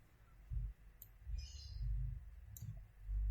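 Sharp mouse clicks in design software, a few isolated taps at irregular moments over a low background hum, close and fairly quiet.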